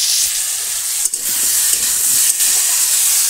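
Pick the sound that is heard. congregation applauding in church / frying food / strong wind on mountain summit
frying food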